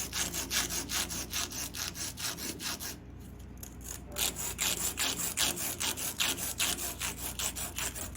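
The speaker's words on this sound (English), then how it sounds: "We'll use some emery cloth to deburr the linkage arms." Emery cloth rubbed back and forth over metal linkage arms of a catalyst bypass door, giving close, rhythmic rasping strokes at a steady pace with a brief pause partway through, no talk.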